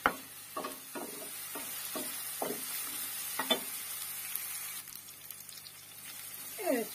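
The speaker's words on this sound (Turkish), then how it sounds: "rendelemiş olduğumuz soğanları güzelce kavuralım" Grated onions with garlic sautéing in a pan for Turkish ezogelin lentil soup, a soft steady sizzle broken by repeated scraping stir strokes, close and moderately quiet.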